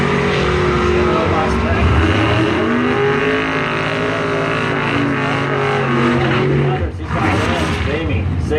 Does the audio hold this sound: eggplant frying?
no